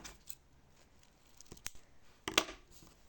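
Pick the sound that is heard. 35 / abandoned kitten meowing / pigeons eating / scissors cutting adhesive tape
scissors cutting adhesive tape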